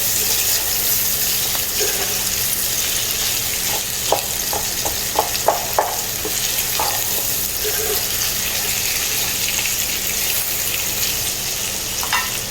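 Onions, bacon and sausage fry together in a pan with a steady, close sizzle throughout, broken by a few brief clinks and stirs near the middle.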